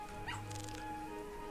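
A dog whimpers in the Roblox game Break In 2, a brief, faint whine over a low, steady game hum.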